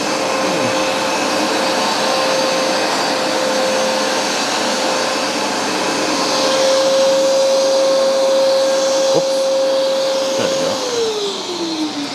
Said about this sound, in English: let's pull out the Hoover Smart Wash and see what it's able to pull out of the carpet that was missed